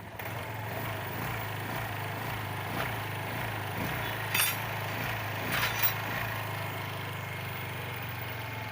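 A carbureted motorcycle engine, after repair of a flooded carburetor, idles steadily with a low rumble, rising in a few brief revs toward the middle before settling back.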